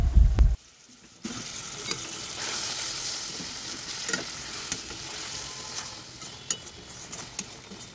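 Water poured into sizzling spice masala in a pan for a vegetarian green banana curry: a short loud splash, then a steady bubbling sizzle with occasional crackles and clinks, close up, no talking.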